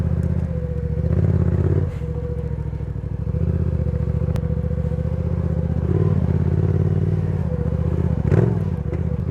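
A motorcycle rides over Texas clay mud and grass, its engine droning steadily and loudly throughout, with brief dips and surges in revs and some clattering.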